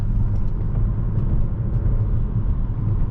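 Alfa Romeo Tonale engine pulling hard after an automatic upshift, a steady, loud low rumble from inside the cabin with no voices.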